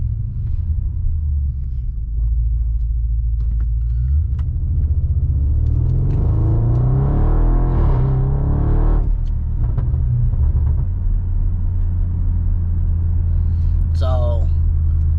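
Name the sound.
Audi RS7 engine exhaust with new downpipes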